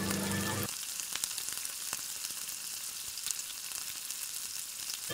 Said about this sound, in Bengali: বড়াগুলো ভাজা হয়ে গেলে ওই তেলে আগে থেকে কুচি করে কেটে রাখা পেঁয়াজগুলো